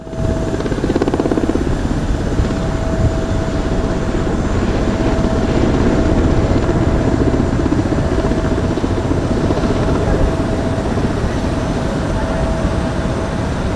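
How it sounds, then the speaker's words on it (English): A Kamov coaxial-rotor helicopter thrums loudly and steadily nearby at Dubai Airshow 2025, a dense pulsing beat with a constant mechanical whine throughout. "Its characteristic Kamov coaxial rotor system provides excellent maneuverability in confined space."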